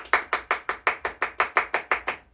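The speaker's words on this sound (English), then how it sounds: "So, hold for applause." Hands clap in an even, steady rhythm, about ten sharp claps spaced evenly and close by, like one person or a small group applauding on cue.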